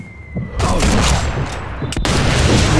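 A single sharp sniper rifle shot rings out in Sniper Elite V2, abrupt and loud, amid steady battlefield ambience, with a faint voice in the background.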